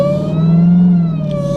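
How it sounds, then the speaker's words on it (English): A roughly 1000 hp Dodge Hellcat with a newly installed Legmaker intake revs up, its supercharger letting out a loud, rising whine over the engine note that builds, holds and then eases off within a second and a half. "That whine I was hearing before, like at 1500, it starts as early as 1000 RPMs now."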